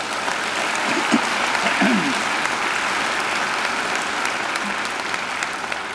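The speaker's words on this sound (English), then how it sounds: "I think she deserves another great round of applause" A graduation ceremony audience gives the singer a steady, sustained round of applause, a dense wash of many hands clapping that fills the hall evenly throughout.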